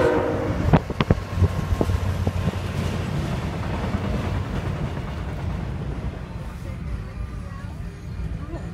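A Norfolk Southern auto train passes in New Jersey, opening with several short horn blasts, then a steady, close rumble of rolling railcars that fades slightly toward the end.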